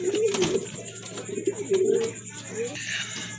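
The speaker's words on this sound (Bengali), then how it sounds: "এই যে দেখেন কবুতর আমি একটু কাছে থেকে দেখা দিচ্ছি" Pigeons coo at a fancy pigeon sale, giving repeated close, throaty bursts with a few chirps while someone talks nearby.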